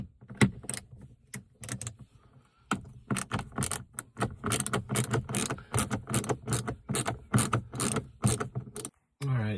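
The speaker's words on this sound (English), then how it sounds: "I'm going to remove those 2 bolts" Two T15 Torx bolts being backed out of a car mount, giving dense clicking, ratcheting mechanical bursts close by with brief pauses and a faint voice under the work.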